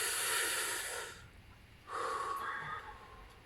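An audience draws a large, deep breath in together, a loud breathy rush that pauses briefly before a second softer inhale and exhale follows.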